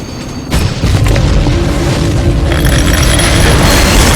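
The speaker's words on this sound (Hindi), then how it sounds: "एक जोरदार धमाका हुआ।" A loud, sudden boom bursts in after half a second of quieter rumble, then sustains as a dense, heavy roar with debris-like clatter, an explosion effect for a speeding train hitting the tracks in an accident.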